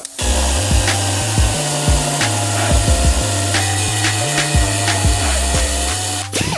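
Metal collar for a Nissan Skyline RB engine being cut with a power tool: a loud, steady grinding whine with repeated low surges as the blade bites, running continuously for several seconds.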